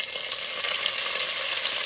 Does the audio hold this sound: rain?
no